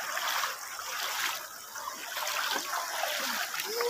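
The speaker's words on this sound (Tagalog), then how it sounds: "Ang lakas ng flow ng current." River water rushing over a strong current during a crossing at Baler, a steady broadband wash of flowing water that fills the whole clip without pause.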